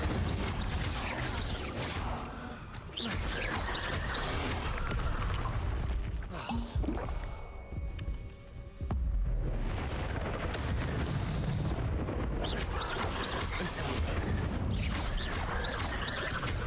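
Incendio fire spells blast repeatedly in Hogwarts Legacy, loud booming bursts and crackling roars of flame that come in waves with short lulls between them, with no talk.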